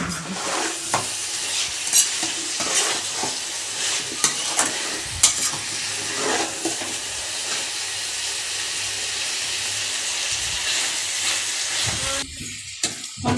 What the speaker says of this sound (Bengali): আমার মাংসটা কষানো হয়ে গেছে।